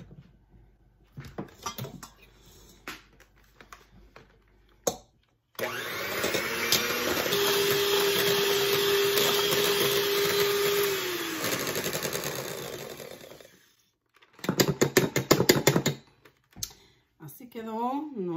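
An electric mixer whips cream until foamy for guava ice cream, a loud steady whirring hum lasting several seconds and then cutting off, with clattering handling noises and brief sounds before and after.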